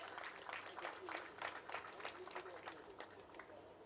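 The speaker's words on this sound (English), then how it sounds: "Can we please give the special guest of honor another round of applause?" Applause for a guest of honour at a Nigerian Army Day celebration, a steady crowd clapping heard from a distance. It sounds dense and continuous, fairly faint, with no voices over it.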